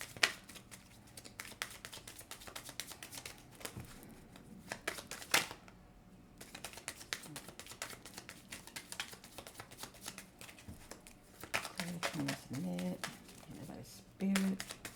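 Tarot cards are shuffled during a psychic reading, rapid riffling and flicking bursts repeating close up for most of the stretch, with a voice talking softly over the end.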